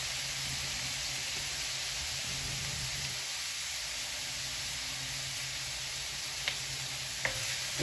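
Garlic fries in oil in a pan for pork fried rice, a constant loud sizzle and hiss with faint stirring scrapes and a couple of sharp clicks near the end.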